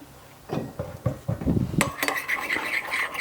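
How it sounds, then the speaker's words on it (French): A spoon stirs oil with vinegar vigorously in a bowl to emulsify a dressing, giving rapid close clinks and scraping against the dish that start soft and grow brighter and busier. "On mélange énergiquement pour bien mélanger tout, pour bien émulsionner."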